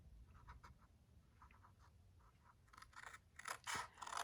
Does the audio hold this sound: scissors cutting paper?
yes